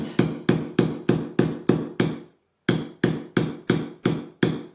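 Sharp, repeated taps drive a wooden dowel into the end of the treadle bottom rail on an Ashford Kiwi 3 folding spinning wheel, about a dozen close, evenly spaced knocks with a short pause midway.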